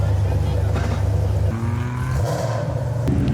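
Lexus IS300 with a 1JZ engine driving during a drifting session, a loud continuous engine drone heard from inside the car with shifting revs, while people talk over it.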